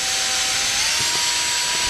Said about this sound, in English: So mark the middle, drill a pilot hole,